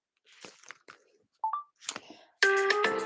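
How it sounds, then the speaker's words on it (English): A phone rings loudly and close with a bright electronic ringtone. A call from mum comes in just after scattered rustling and crunching handling noises and a short beep. "Mum's just ringing."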